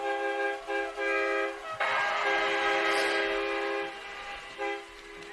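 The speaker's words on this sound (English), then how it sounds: "Oh, you hear the air horns." Air horns blast at a high school playoff football game between Greeneville and Anderson County, with several short honks followed by a long sustained blare, loud and alone over the stadium crowd.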